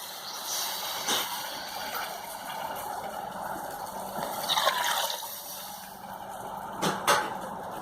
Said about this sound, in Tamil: ஒன்று தண்ணி ஊற்றிருக்கேன்.